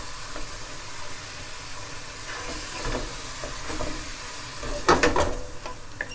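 Mushroom stuffing sizzling steadily in a pan once the sherry has cooked off, a continuous close frying crackle with occasional stirring scrapes and a brief louder burst of spattering toward the end.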